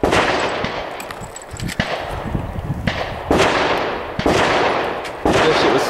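Loud, close rifle and pistol reports at a 3-gun shooting match, about five heavy muzzle blasts spaced roughly a second apart, each with a sharp crack and rolling outdoor echo.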